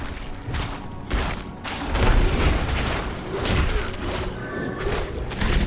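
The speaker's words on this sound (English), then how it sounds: "Oh, we got pushed into the explosion." Booming explosion effects from the Diablo 4 video game, dense rumbling blasts and thuds layered over continuous loud game noise, with no speech.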